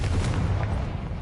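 Blast from the Confringo spell in Hogwarts Legacy: one loud, close explosive bang with a deep low-end rumble that holds briefly and then tapers off, no one speaking.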